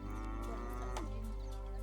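A cow on a rural roadside lets out a low, sustained moo that holds steady for nearly two seconds, fairly close and clear, with no voices.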